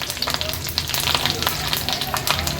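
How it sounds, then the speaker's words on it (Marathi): Curry leaves and asafoetida sizzle steadily in hot oil, a dense hiss scattered with quick pops and crackles, close and continuous with no talking. "तेल गरम झालं आहे आता फोडणीला आपण कढीपत्ता घालूया"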